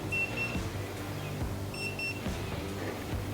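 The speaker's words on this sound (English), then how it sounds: "Get that stupid alarm to shut up." A faint electronic alarm beeps in short repeated pairs, a thin high tone pulsing over a low background hum, beside an offset smoker during a rib cook.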